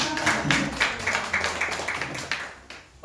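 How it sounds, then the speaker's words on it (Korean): A church congregation in Seoul claps together during a Sunday service in a steady, sustained round of applause, fairly close and even, tapering off near the end. "박수 한번 하세요"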